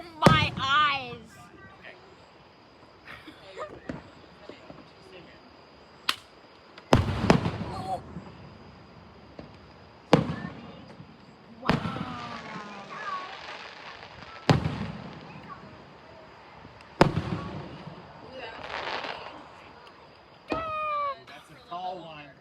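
Fireworks burst repeatedly over Ocean Isle Beach, sharp loud booms and crackles every few seconds across the night show, with people talking and a cat meowing between the explosions.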